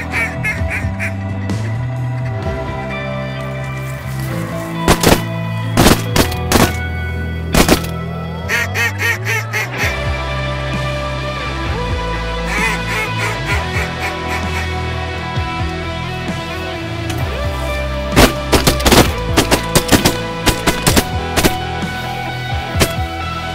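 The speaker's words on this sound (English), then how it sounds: "Pile of ducks coming." A flock of ducks and geese flies in during a hunt, with loud overlapping quacks and honks, sharp calls repeated throughout, and thumps and rustles nearby.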